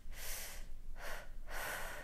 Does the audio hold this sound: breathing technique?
yes